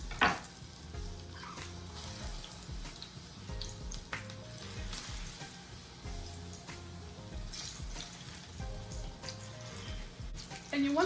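Pork chops sizzle and fry steadily in hot masala oil, a dense continuous crackle with a few louder spits and clatters, close and alone without talk.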